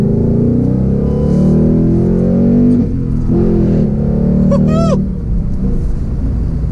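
A deep, loud 5.0L V8 engine of a 2021 Ford Mustang GT Premium rumbling close by, swelling with a couple of revs before settling back to a throaty idle, with a faint chirp over it.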